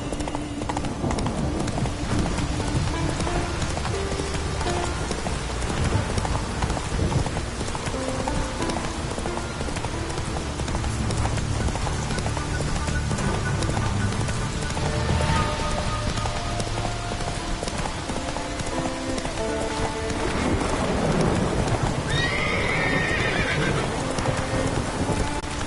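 Horse galloping in The Witcher 3 on PS5, steady clip-clop hoofbeats with whinnies and neighs over a continuous wash of rain, loud and constant throughout, with a voice urging it on.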